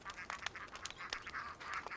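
Ducks quack outdoors beside a kiln fire burning branches into biochar, a quick run of nasal calls repeating irregularly at moderate distance, with several birds overlapping in a steady back-and-forth chatter.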